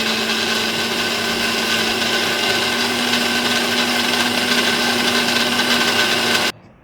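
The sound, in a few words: mixer grinder grinding neer dosa batter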